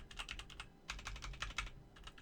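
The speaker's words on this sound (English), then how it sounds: "trying to type with one hand" Computer keyboard typed with one hand, giving quiet, quick clusters of plastic key clicks in uneven bursts with a short pause midway, close but faint.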